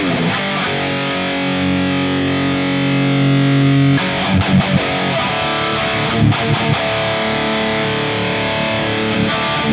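Electric guitar played through a Helix Stadium XL amp model with the hype control on, heavily distorted and aggressive, sustained chords that give way to choppier strummed bursts, loud and alone.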